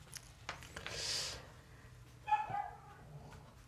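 A dog gives a couple of short, sharp barks at moderate distance, standing out briefly from a quiet indoor background.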